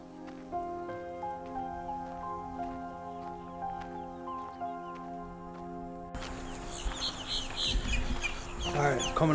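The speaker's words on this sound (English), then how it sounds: "I'm hearing birds, a lot of birds here." Birds calling near lakes in Florida, with repeated clucking, chirping calls over a steady background drone. The sound shifts to a louder, busier mix partway through.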